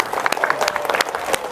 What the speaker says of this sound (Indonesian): Tepuk tangan untuk Nurul Huda.